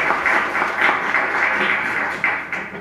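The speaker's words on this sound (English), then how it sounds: "Everyone, let's give another round of applause to Mr." An audience at a company event claps steadily in a dense, continuous wash of applause that swells and eases slightly over a few seconds.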